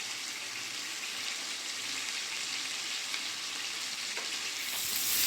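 Washed chicken pieces sautéed with spices and salt in a pan for a Bengali potato chicken curry, a steady moderate sizzle with occasional faint stirring clicks, swelling into a louder hiss near the end, with no voices.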